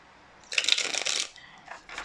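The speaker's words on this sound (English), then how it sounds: "let me just do another quick shuffle and cleanse the table just a bit" Tarot cards from the Muse deck being shuffled by hand on a table, a dense riffling burst for under a second followed by fainter rustles, close and alone with no talk.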